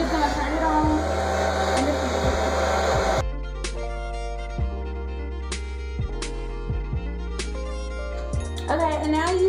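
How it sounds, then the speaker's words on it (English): A blow dryer fitted with a diffuser roars with a steady broadband whoosh for about three seconds, then cuts out, leaving quieter tonal background sounds. "My blow dryer and my diffuser, and I'm just gonna turn it on."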